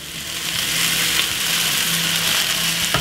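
Leftover rice hitting a hot pan of curry-stirred vegetables for Jamaican-style fried rice, giving a loud, continuous close sizzle with faint stirring scrapes.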